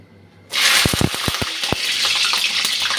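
Green chillies dropped into hot oil in a pan for cooking a pointed gourd (potol) paste dish, bursting into a loud, steady sizzle with sharp crackling pops at the start that settle into continuous frying hiss.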